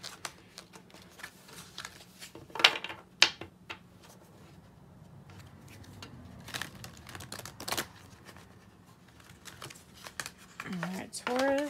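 Tarot cards are shuffled by hand at close range. Quiet riffles and scrapes are broken by several sharp snaps and flutters of the stiff deck, and a voice is briefly heard in the background.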